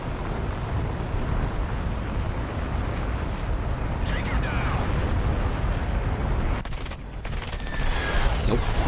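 Aircraft guns firing in the War Thunder air battle game, a dense steady rattle of rapid shots over engine roar, loud and continuous with a brief dip near the end before picking up again.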